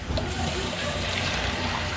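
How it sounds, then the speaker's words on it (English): Fresh clean water pours steadily into a cider pasteurizer, a continuous loud splashing rush with no break and no talk. "I'm gonna get some nice fresh clean water"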